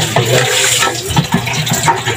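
Tap water runs steadily into a kitchen sink while dishes are washed, a loud close gushing with small splashes and clinks, no talk.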